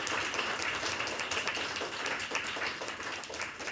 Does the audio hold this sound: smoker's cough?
no